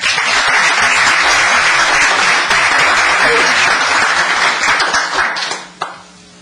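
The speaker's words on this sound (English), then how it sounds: "may we have a clap of recognition" At a town council meeting, an audience claps in a sustained round of applause that carries on for about five seconds, then stops abruptly.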